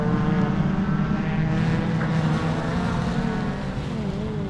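Rallycross cars at a British Rallycross round run nose to tail through a turn on loose surface, their engines a loud, layered droning roar with shifting pitches, no voices.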